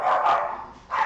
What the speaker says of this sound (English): That's what she's barking at.